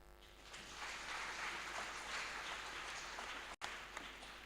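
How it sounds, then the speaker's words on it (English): A church congregation claps together in a steady, dense wash of many hands that is distant and soft, briefly cut by a dropout near the end. "Clap for me."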